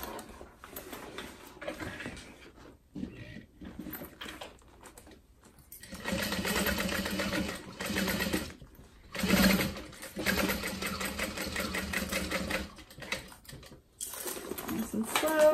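A sewing machine back stitches a zip-top tote bag in loud, rapid mechanical runs with short pauses and slower passages between them, while a voice talks near the machine.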